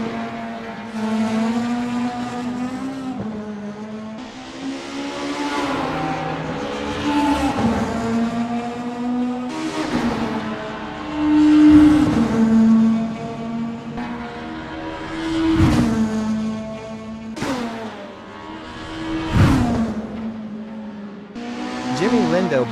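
A 1990s BTCC super touring race car on a flying lap in a racing game, its engine wailing and rising through gears with sharp downshift drops, steady and prominent throughout.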